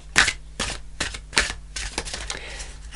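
Tarot cards being shuffled in quick riffling bursts, crisp papery flutters repeating several times at close range with no talking.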